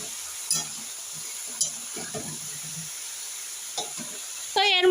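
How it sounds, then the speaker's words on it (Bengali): Radish and eggplant stir-fried together in a pan for a spinach dish with lentil wadi, giving a steady sizzle with occasional scraping stirs and soft spoon knocks, brief speech in between, and a louder burst of hissing near the end. "মূলো আর বেগুন একসাথে ভালো করে কষিয়ে নেবো, একটু ভালো করে ভাজা ভাজা করে নেবো মূলোটা আর বেগুনটা।"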